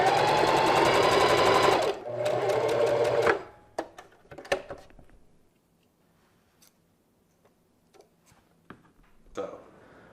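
A sewing machine stitches the side seam of athletic-fabric shorts in two loud, fast, rhythmic bursts, then falls silent, leaving scattered small clicks and handling taps nearby.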